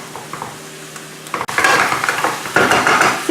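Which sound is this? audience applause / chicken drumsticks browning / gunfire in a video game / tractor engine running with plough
chicken drumsticks browning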